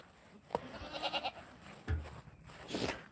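Farm goats bleat in short, quavering bursts close by, a few overlapping calls in quick succession.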